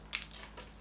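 Plastic packaging holding a bed-bug protection plate and a glove is torn open up close: a brief crinkling, crushing burst of a few quick crackles, quiet and with no talk.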